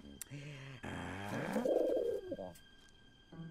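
Pigeons coo in an animated scene, giving soft, throaty warbling calls that rise and fade over a couple of seconds, amid other faint sounds.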